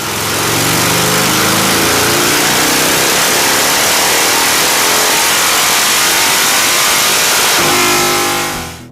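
A street motorcycle fitted with drag pipes revs hard on a dyno, a loud, continuous engine roar that climbs steadily in pitch for about seven seconds, then drops back toward idle before cutting off at the end.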